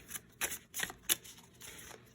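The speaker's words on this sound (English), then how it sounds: "now let's shuffle the cards" A deck of cards is shuffled for a chakra and angels pick-a-card reading, giving several quick riffling bursts close by, fairly quiet, with short pauses between them and no talk.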